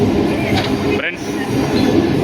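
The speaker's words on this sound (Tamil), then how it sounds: "ஸோ நம்ம ட்ரெயின் ஆதம்பாக்கம் ஸ்டேஷனை நோக்கி போயிட்டுருக்கு" A local commuter train runs on the Velachery to St. Thomas Mount line toward Adambakkam station, heard from on board. The rumble is loud and steady, with a brief wheel squeal midway.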